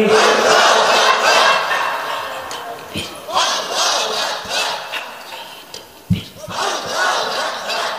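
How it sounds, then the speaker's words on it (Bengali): A large crowd at a religious gathering, a waz mahfil, chants takbir in loud, sustained, massed voices that rise and fall in waves, with brief sharp shouts breaking through. "এবার আকাশ বাতাস মুখরিত করে তাকবীর দিতে হবে।"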